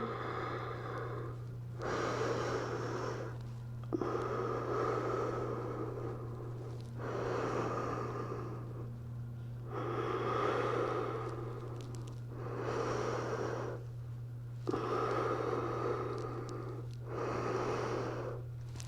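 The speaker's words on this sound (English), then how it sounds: "3 nice deep breaths here" Slow, deep yoga breaths during a balance pose, steady inhale-exhale cycles of about two seconds each, close and clear, with a constant low hum behind them and no talking.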